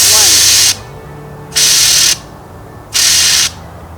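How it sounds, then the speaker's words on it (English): A bear spray canister fires three sharp hissing bursts of roughly half a second each, loud and close, separated by brief quiet gaps with a low background hum between them. "spray down in short 2-second bursts"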